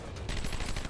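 Rapid bursts of automatic gunfire rattle continuously from Batman: Arkham Asylum, dense and loud with a rhythmic stutter, no voices over it.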